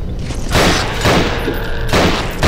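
Gunfire in the horror shooter Nightmare House 2, loud bursts of rapid shots coming in three close, heavy volleys with booming, noisy tails.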